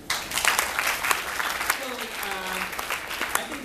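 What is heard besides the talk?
audience applause at engineering college speech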